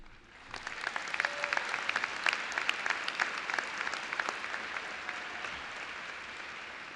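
Sustained applause from a high school commencement audience, a steady dense wash of clapping filling the hall from start to finish.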